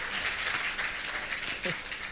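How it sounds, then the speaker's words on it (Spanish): An audience at a talk on Chilean comics during FIC Santiago 2017 breaks into dense, steady applause for a couple of seconds, with a brief voice surfacing near the end. "Aplauso para Juan Francisco Jara."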